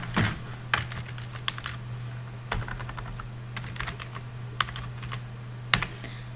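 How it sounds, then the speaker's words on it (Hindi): Keystrokes on a computer keyboard while entering records into a Microsoft Access form, irregular light clicks in short bursts over a steady low electrical hum, close and fairly quiet. "टाइप करते हैं हम"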